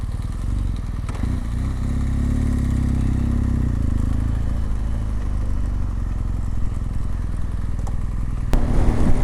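BMW R1200GS motorcycle riding at altitude toward Khunjerab Pass, a steady droning engine with wind rush and rattling, continuous and close for the whole stretch, no talking.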